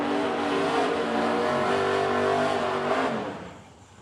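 A drag race car at a dragstrip event in Edmonton makes a pass, with a loud, sustained engine roar that holds steady before fading quickly into the distance at the end.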